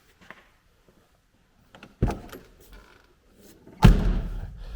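The door of a 1979 Porsche 924 is shut twice, close by: a lighter thud, then a louder solid slam with a short ringing tail, with small clicks and handling noises before each.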